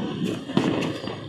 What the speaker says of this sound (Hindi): मुझे ना पटाखों से बहुत डर लगता है, मैं कभी पटाखे नहीं छोड़ती हूँ